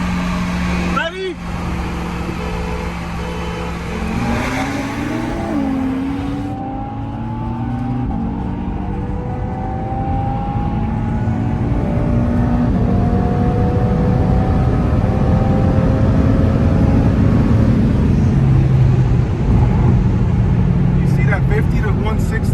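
Tuned Nissan GTR and Audi TTRS racing from 50 to 160, engines rising in pitch through long gear pulls into a loud sustained roar, with voices talking over it.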